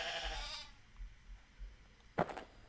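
A sheep bleats once, short and fairly clear, near the end of a children's animated Bible story, after a stretch of quiet background sound.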